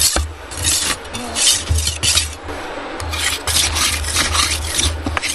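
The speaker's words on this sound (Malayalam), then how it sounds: "ഇങ്ങനെ കത്തി അണക്കും" A toddy tapper sharpens his tapping knife in a forest setting, a steady rasping scrape of blade on whetstone repeating in close, continuous strokes, with a low hum beneath and no talk.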